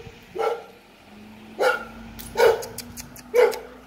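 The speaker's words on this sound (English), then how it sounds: "don't be alarmed by the dogs, they are just keeping watch" Dogs barking in a video game, four separate barks spaced about a second apart at moderate distance, over a faint steady hum.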